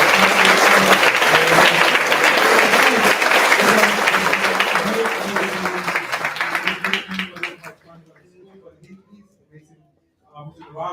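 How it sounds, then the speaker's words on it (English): A large audience at a school demo day event breaks into dense, loud applause that runs several seconds with some voices mixed in, then thins into scattered claps and fades to near silence. "So big round of applause for Bill coming in clutch."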